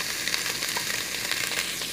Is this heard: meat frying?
yes